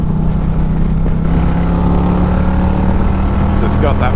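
An Indian Challenger motorcycle fitted with Lloydz 530 cams pulls hard in fourth gear on a freeway, its loud steady engine drone building under rushing wind.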